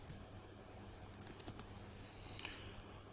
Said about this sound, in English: we'll just type that balance